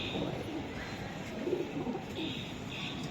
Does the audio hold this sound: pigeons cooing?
yes